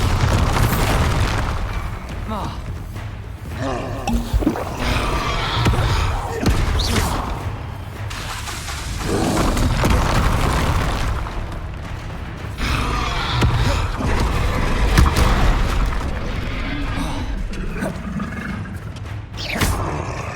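Spell explosions from Confringo and Bombarda in the video game Hogwarts Legacy give repeated loud booms and bursts over a continuous roaring bed of battle noise, with faint voices now and then.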